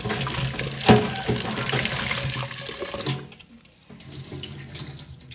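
Water runs from a kitchen tap into a sink in a steady splashing stream, with a sharp clatter near the start and the flow softening to a thinner trickle toward the end.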